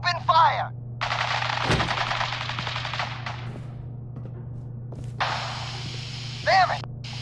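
Sustained automatic gunfire in Fallout 4, two long bursts of rapid, loud shots separated by a brief lull, with a steady low hum underneath and short shouted voices between the volleys.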